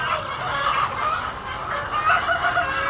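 Roosters at a poultry farm cluck and call in a steady, busy stream, close and fairly loud, with no talking.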